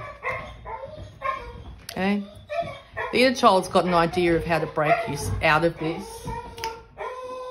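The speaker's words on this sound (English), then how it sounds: "Sorry, I've just got to settle my dogs." Several dogs bark and yip in short bursts indoors, mixed in under someone talking over them.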